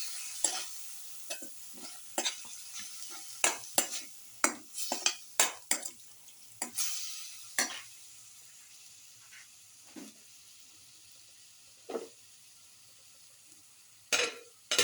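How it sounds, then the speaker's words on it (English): A spoon stirs salt into a garlic beef tomato casserole in a pot, making a string of sharp scraping clinks against the pan, some in quick clusters and others spaced apart, over a faint sizzle with no talking. "Put in salt to taste. Salt and mix."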